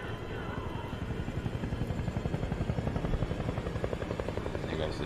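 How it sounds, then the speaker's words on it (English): A helicopter in the Siren Head movie, its rotor giving a steady rhythmic chop that builds in level across the few seconds, under faint talk. "There goes the chopper."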